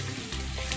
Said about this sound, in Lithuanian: Nu ką, apkepam svogūnus.